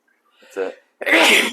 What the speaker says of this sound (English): sneezing right into the mic loud as fuck